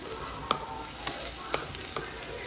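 Green chilli paste fries in a pan under a steady soft sizzle, with a few distinct stirring clicks and scrapes spaced roughly half a second apart; no voices.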